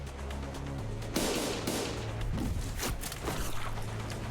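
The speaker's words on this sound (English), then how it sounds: "Loud explosion left Don Quixote dismembered where she stood" A loud explosion in the Limbus Company video game, with sharp booming bursts and crackling gunfire-like blasts over steady low game music and rumble.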